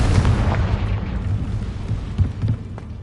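A Confringo blasting spell exploding in the video game Hogwarts Legacy, a loud, close, rumbling boom with crackling bursts that decays over a few seconds, with no speech.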